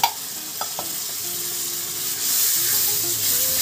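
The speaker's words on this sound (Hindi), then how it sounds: "टमाटर को ऐड कर देना है" Chopped tomatoes hit a hot pan of pav bhaji vegetables, giving a close, loud sizzle and frying hiss with a few stirring knocks, the sizzle swelling toward the end.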